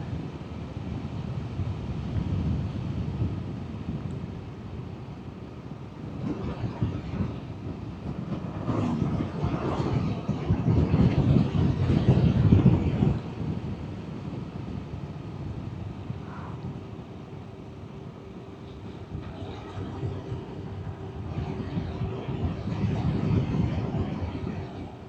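Motorcycle riding through town at about 50 km/h, heard from a handlebar-mounted microphone: engine drone and heavy wind buffeting that swell and fade throughout, with no talking.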